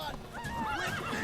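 A horse whinnies in The Witcher 3, a short rising-and-falling neigh over faint hoofbeats, close but moderately quiet.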